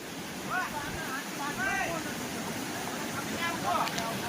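Floodwater of the swollen Ojat river in the Ghed area of Junagadh during monsoon rain: a continuous rushing wash of water, with gusts of wind buffeting the microphone and faint whistling tones at moments.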